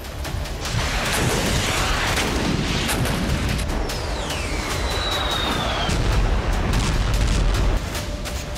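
Russian naval strikes launched from the Caspian Sea pound Ukrainian cities, producing a continuous heavy rumble of blasts and booms, with a falling whistle-like tone cutting through midway; no talking is heard.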